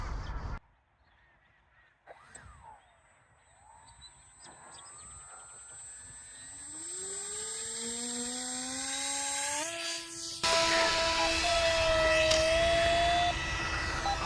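A small electric motor on a Depron foam model plane whines up in pitch as it launches and climbs, its buzzing tone rising and sustaining loudly after a brief quiet start.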